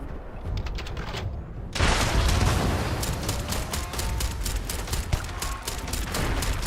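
Rapid bursts of rifle fire from a Beowulf in the Starfield video game, a steady stream of sharp shots after a brief quieter lead-in, loud and close with no talk.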